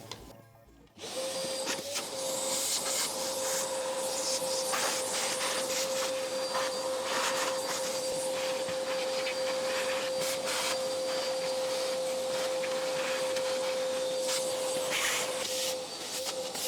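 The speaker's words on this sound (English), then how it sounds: "vacuum cleaner." A vacuum cleaner switches on and runs steadily near an old electronic device being cleaned, with a loud constant whine and hiss, occasional rustling and scraping as the nozzle moves.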